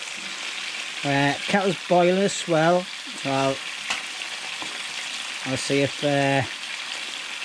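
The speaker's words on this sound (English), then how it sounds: "Kettle's boiling as well" A kettle boils on a home-made wood burner stove inside a shelter, giving a steady bubbling hiss throughout while someone talks briefly over it.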